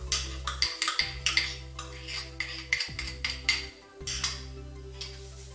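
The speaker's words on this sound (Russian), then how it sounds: "Все нужно будет хорошенько перемешать." Metal utensil clinking and scraping rhythmically against a bowl while mixing chak-chak dough, quick repeated strokes close up with brief pauses, no voices.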